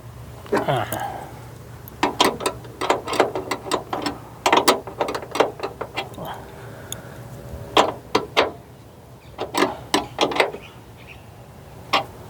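A ratchet wrench clicks in quick repeated bursts while tightening a shock mount bolt on a Ford Next-Gen Ranger hood, up close, with short pauses between runs of clicks.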